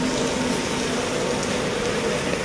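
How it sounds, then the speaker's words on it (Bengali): Heavy rain pours down in a dense, steady hiss that stays loud and unbroken throughout, with no voices. "এখন প্রচুর বৃষ্টি হচ্ছে ঠিক আছে প্রচুর বৃষ্টি হচ্ছে এই জায়গায়"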